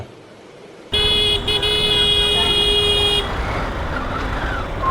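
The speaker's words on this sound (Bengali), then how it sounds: "এই দেখছো হর্ন দিয়ে লাভ নাই।" A loud car horn blasts in one sustained honk of about two seconds, close by, over the rumble of road traffic beside a CNG auto-rickshaw, then cuts off and the traffic noise continues.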